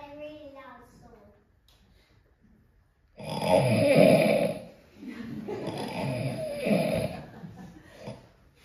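A voice imitates loud, drawn-out snoring: two long, rough, rasping snores following a quieter stretch of talk.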